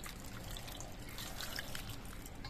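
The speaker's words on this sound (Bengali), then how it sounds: "তো লাউটা সরু করে কাটার আগে লাউটা আমি ধুয়ে নিচ্ছি।" Tap water trickling and splashing while a peeled bottle gourd is washed, a steady soft running stream with faint drips, close and quiet, no talk.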